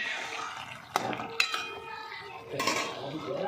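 A cooking pot lid comes off a pot of boiled vegetables with a couple of sharp metallic clinks and a clatter, followed by a soft steamy hiss and a short scrape close by, with no voices.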